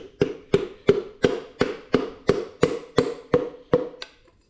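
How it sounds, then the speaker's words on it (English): A dead blow hammer taps a piston through a ring compressor into a Ford 302 V8 engine block, about eleven evenly spaced close, dull knocks, steady and rhythmic, fading slightly at the end. "now with my dead blow hammer, we can just slowly ease the piston in, holding the ring compressor down."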